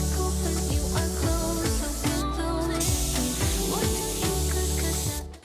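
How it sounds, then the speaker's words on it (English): An airless paint sprayer lays a coat of paint onto reclaimed old wood trim, a steady, continuous hiss running nearly unbroken from start to finish. "use my airless sprayer and lay down a coat of paint"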